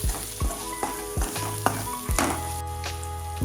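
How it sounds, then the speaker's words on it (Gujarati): Spice masala for pav bhaji sizzles in a pan while a spoon scrapes and stirs it in repeated sharp strokes, close and steady, with no talking. "બધું સારી રીતે મસાલા સાથે મિક્સ કરી લેશું."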